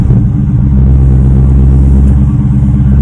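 A loud, deep car engine rumbles steadily close up, with a throaty low drone and slight surges, no voices.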